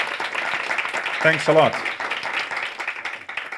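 Audience applause after a startup pitch at a tech conference, a steady wash of clapping throughout with a person briefly speaking over it in the middle.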